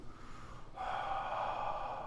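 A voice imitates a creature breathing beneath a tree during a tabletop role-playing game. A single long, rough, airy exhale starts partway through and is held, close and fairly loud.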